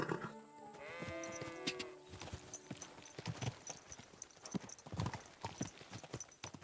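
Horse hooves in Kingdom Come Deliverance II clip-clop at a steady walking rhythm, quiet and close, after a brief whinny or bleat at the start.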